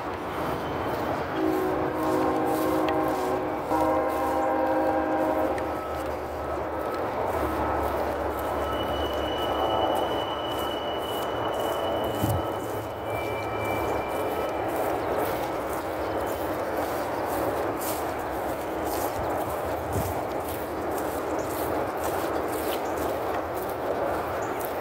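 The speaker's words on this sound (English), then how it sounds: "Trains." A train rumbles past near woods on a cool, foggy morning, a steady loud roar with clanking and sustained horn-like tones over the first few seconds, continuing without voices.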